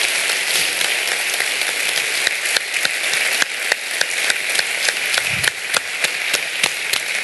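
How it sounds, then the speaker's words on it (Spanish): Dense audience applause at a tech conference event, many hands clapping steadily and loud throughout, a continuous wash with a few sharper individual claps standing out, no speech over it. "para los cuales pido un gran aplauso."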